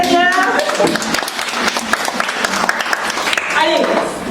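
A congregation at a women's church meeting bursts into loud applause in praise of the Lord. The clapping is sustained and crowded, with shouts and a speaking voice over it.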